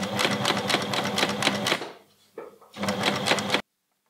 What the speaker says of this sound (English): I've sewn over the steeking stitches twice now, once with a long straight stitch and once with a wide zigzag stitch